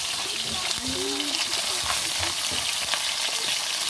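Tilapia sizzles in hot oil in a pan, a steady dense crackle close by with some faint thuds, and a person speaks over it briefly.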